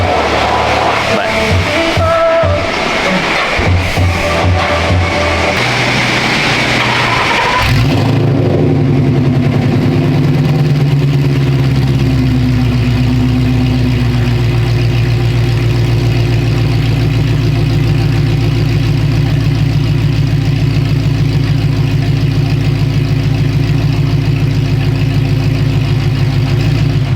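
Ford Mustang S197 with dumped exhaust: a few loud, rough revs at the start, then a deep, steady, rumbling idle that carries on for a long stretch, close by and with no talking.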